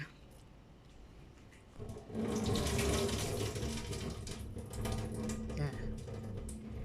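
Water drains off soaked sticky rice. A quiet start gives way to a steady, close rush of running water from about two seconds on, and a voice can be faintly heard.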